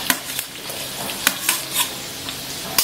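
Onion fries over high flame with garlic and green chilli in a pan for vegetable noodles, a bright sizzle broken by several sharp scrapes of stirring, close and without talk.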